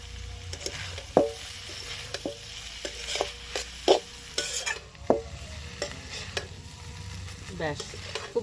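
Chowmein noodles are stirred and tossed in a frying pan, giving irregular scraping and clattering strokes over a steady sizzle, close and fairly quiet.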